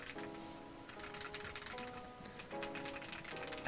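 A RoyalAxe L98 1800-layout mechanical keyboard with Gateron yellow switches on a PC plate is typed on quickly, producing soft, even clacks in a steady flurry, close and alone.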